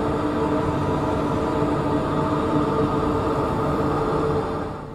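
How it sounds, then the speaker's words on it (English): A moving train in the video game Blackwood Crossing gives a steady, loud rolling rumble that runs unbroken for several seconds, then eases slightly at the end, with no talking. "Finn, there's no one driving the train"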